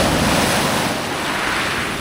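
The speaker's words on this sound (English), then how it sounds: "every now and then you get these big huge waves coming in and they smash you" Sea waves wash loudly onto a rocky, eroding Greek island shore, a dense continuous surge of surf mixed with strong wind buffeting the microphone, close and without speech.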